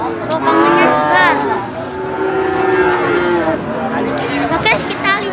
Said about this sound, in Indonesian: Ini juga ada sapi simental